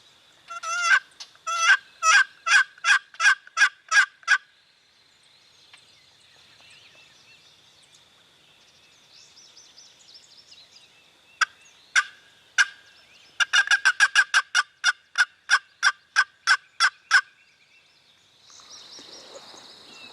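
Wild turkey gobbler calling on farmland pines, repeated bursts of rapid rattling gobbles and clucking calls, fairly loud and close, in quick series separated by quieter stretches, with no talking.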